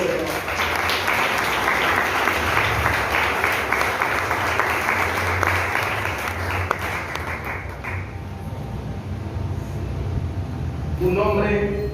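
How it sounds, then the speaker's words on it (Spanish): Church congregation applauding during a service, dense sustained clapping from many people for about eight seconds, with voices and music underneath before it tapers off. "¿Cuántos aplauden el nombre del Señor?"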